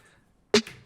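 A single dry snare hit from a sampler in a breakbeat techno production, without drum bus processing, sharp and close after a near-silent lead-in.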